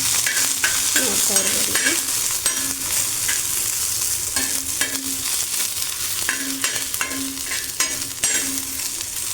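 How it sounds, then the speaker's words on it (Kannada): Food frying in oil in a pan, a steady close sizzle with repeated stirring and scraping strokes throughout, and a brief bit of speech early on. "ಈಗೆಲ್ಲ ಚೆನ್ನಾಗಿ ಫ್ರೈ ಆಗ್ತಿದೆ"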